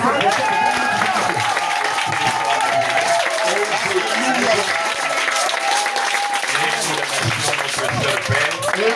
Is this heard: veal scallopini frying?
no